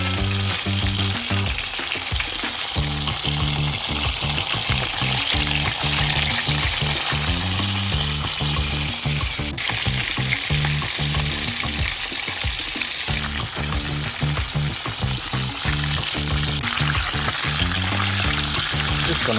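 Seasoned fish fries in hot oil in a pan during Samoan Sunday home cooking, giving a loud, steady sizzle and crackle that runs continuously throughout with no talking.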